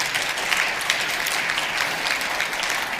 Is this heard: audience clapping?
yes